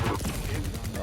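Rapid plasma-style nail gun fire in the arena shooter Quake, a dense run of quick repeating shots filling about a second, loud and close amid game effects.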